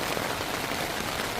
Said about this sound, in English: And the rain is coming down now.